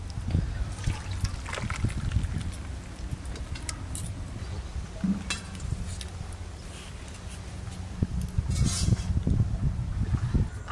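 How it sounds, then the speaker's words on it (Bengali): Cooked fish curry with its spicy gravy being poured out of the pan after simmering, a steady wet trickle and patter lasting throughout with a few louder splashy bursts near the end, close by and with no talking. "মাছ রান্না তো হয়ে গেল, ঢেলে নেব।"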